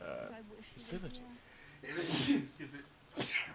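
A sudden, explosive sneeze bursts out between stretches of talking, with a second sharp breathy burst moments later.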